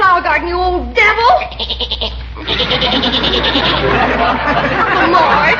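Goat bleating in quavering bursts in an old-time radio comedy scene as it eats flowers in a garden, with voices talking before and during the bleats and a busy, chattery backdrop.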